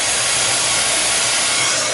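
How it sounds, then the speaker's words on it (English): A handheld heat gun blows hot air in a steady, loud, broadband whoosh that holds unbroken from start to end, with no voices over it. "I take my heat gun"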